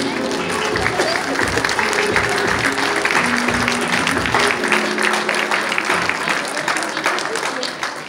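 An audience at a sport dance tournament final claps steadily, a dense sustained round of applause filling the hall, with some voices mixed in and the clapping thinning toward the end.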